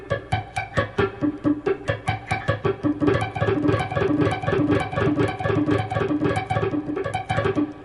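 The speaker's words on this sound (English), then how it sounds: "Now you can actually mute the strings and work on just the right hand." Electric guitar with the strings muted by the left hand while only the right hand picks, producing fast, percussive chugging strokes in a steady driving rhythm, loud and close with no talking.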